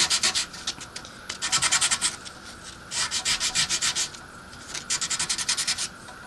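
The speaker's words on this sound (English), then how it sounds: "Just sanding it down." Hand sanding of a wooden hornet-shaped fishing lure, bursts of rapid back-and-forth rasping strokes separated by short pauses, close and fairly loud with no voices.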